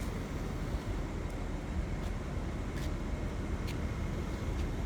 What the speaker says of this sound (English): Hey, look, a vehicle.